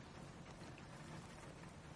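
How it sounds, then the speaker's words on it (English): Rain falling, a steady faint hiss of drops spread evenly across the whole stretch with no voices over it. "It's still raining."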